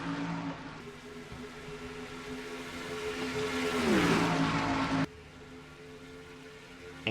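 Stock car engines at Charlotte in a sim racing game hum steadily, then swell as a car passes closely with a falling pitch, before a sudden cut to a quieter engine drone.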